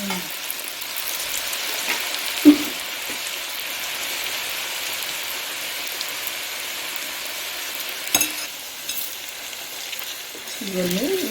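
Squeezed grated potato frying in hot oil, a dense steady crackling sizzle held for several seconds, with a couple of sharp utensil knocks and a faint movement sound at the end, no talking.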